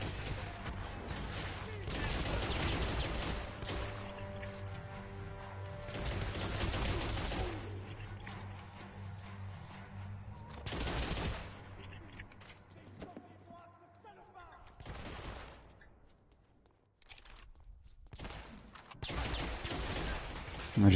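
Gunfire from the video game Hitman: Absolution, with bursts of shots mixed into a busy, loud game soundtrack and heavy talking throughout, a brief near-silent gap, then action resuming.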